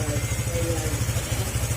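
Motorcycle engine running after a throttle body cleaning, a close, steady idle with a rapid pulsing thump and light mechanical clatter.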